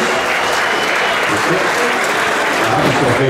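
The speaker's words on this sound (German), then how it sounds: "Einen großen Applaus" Crowd applauding at a prize-giving ceremony during a Schützenfest marksmen's festival, a loud, dense and continuous wash of clapping filling the whole stretch.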